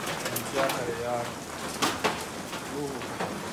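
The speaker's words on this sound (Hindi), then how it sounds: "बारिश है यार, बहुत तेज है" Heavy rain pours in Peshawar, a steady broadband hiss of downpour on surfaces that leaks into a room, loud and continuous throughout with someone talking over it.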